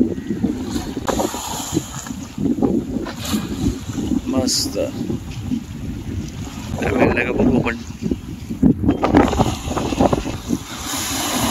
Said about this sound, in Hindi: पाण्याचा आवाज बघू शकताय, खूप जोरात समुद्र असं हे झालेलं आहे, उधाणलं आहे.